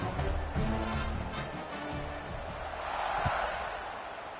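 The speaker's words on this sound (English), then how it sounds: "this crowd is buzzing after that last score" Football stadium crowd buzzing after a score, a broad steady roar of many voices close around, swelling slightly toward the end with scattered shouts, under a public address voice.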